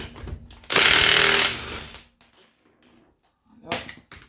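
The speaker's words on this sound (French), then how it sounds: "Et on dessert les autres écrous." A rattling power impact tool loosens 17 mm wheel nuts on an Audi A4 B8 in one loud burst of under a second. A second shorter burst follows, with a voice speaking between them.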